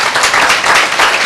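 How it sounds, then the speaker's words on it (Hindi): A church congregation at a Sunday meeting applauds loudly, a dense, steady wash of clapping that fills the whole brief moment. "जोरदार ताली।"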